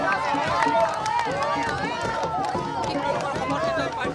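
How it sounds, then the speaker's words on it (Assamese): Gauhati University students celebrate a PGSU election victory with a dense crowd of shouting, cheering voices, a loud, steady hubbub of overlapping calls that never lets up. "সকলো ওলাই আহি তেওঁলোক আনন্দত মতলীয়া হৈছে বিজয় উল্লাস কৰিছে"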